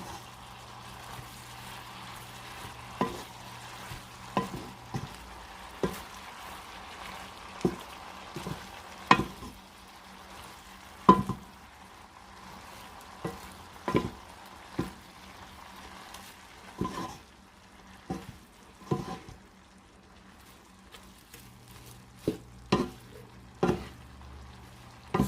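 Cabbage and spaghetti noodles being stir-fried for lo mein, with a soft sizzle beneath repeated scraping and clattering strokes of a utensil against the pan at an irregular pace.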